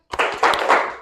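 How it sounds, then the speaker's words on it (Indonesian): A classroom of students performs a rhythmic spirit clap during an ice-breaker, a few sharp, close group claps in a quick patterned sequence over about a second. "Tepuk semangat"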